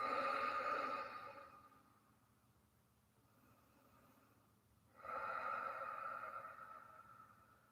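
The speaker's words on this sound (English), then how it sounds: "Take some deep breaths." Slow, deep breaths taken while resting in yoga child's pose with forehead lowered, a soft breathy inhale, a quiet pause, then another audible exhale, close and gentle with no voice over it.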